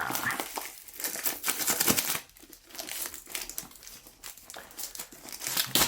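Packaging of an Insta360 GO 2 action camera being handled and opened up close, with steady crinkling, crumpling and tearing of paper and plastic for several seconds and no talk.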